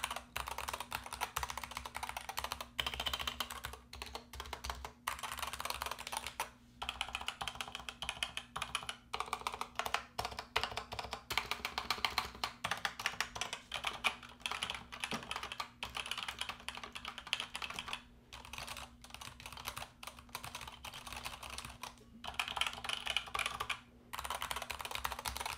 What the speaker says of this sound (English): after getting a sound test of the keyboard